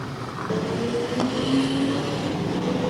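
Super sedan race cars roaring around the Archerfield Speedway track during Cannonball Cup racing, a steady loud engine drone with a rising whine as cars pass, no talking.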